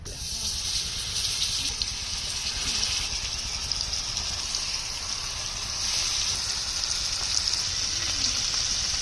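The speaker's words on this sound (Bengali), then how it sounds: "তেলটা গরম হয়েছে, এখন মাছটা ভাজছে নেব।" Koi fish sizzling in hot oil in a frying pan, a steady broadband hiss that holds fairly loud throughout with slight surges and no voices.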